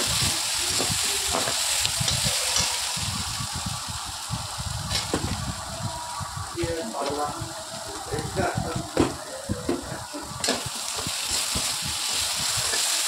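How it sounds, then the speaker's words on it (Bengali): Potatoes frying in a pan crackle and sizzle steadily, with scraping and stirring clatter scattered through. "সবজি কাটা হয়ে গেলে এবার আলুগুলো আমি ভেজে নিচ্ছি।"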